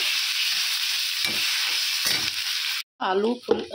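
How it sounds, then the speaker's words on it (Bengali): Ginger garlic paste frying in hot oil gives a steady close sizzle with a few utensil taps, then potato and aubergine pieces drop in and the sizzle briefly cuts out before crackling resumes in bursts. "এইভাবে লাল লাল করে ভেজে নিয়ে আলু বেগুনটা আগে দিয়ে দেবো"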